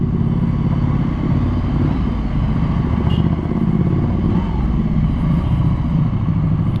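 A Ducati Scrambler 800 Icon from 2020, modified, rides with a continuous loud engine rumble and wind buffeting, heard up close from the rider's position.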